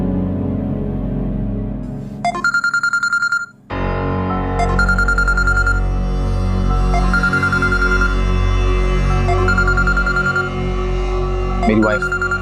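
A mobile phone ringtone plays loudly and repeatedly for a wife's incoming call in a Hindi drama, a bright looping melody that cuts out briefly and then resumes through to the end.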